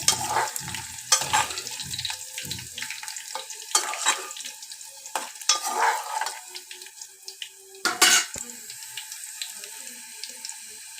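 Dried red chillies frying in hot oil while being stirred in a pan, with a steady close sizzle broken by several sharp scraping bursts of stirring.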